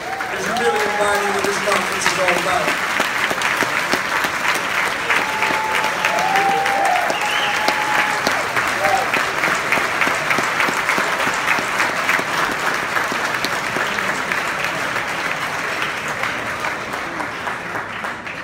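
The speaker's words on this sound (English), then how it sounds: "We want to give you a round of applause." Gala audience at an RMC event gives a long, warm round of applause for an honoree named Raheem, dense clapping sustained evenly throughout and tapering slightly at the end, with voices faintly mixed in.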